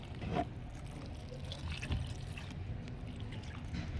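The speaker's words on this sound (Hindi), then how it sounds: "और ऊपर से ये मैंने चूना वाला पानी डाल दिया" Lime water poured onto the soil around an eggplant plant gives a faint, soft trickle and splash that runs quietly for a few seconds.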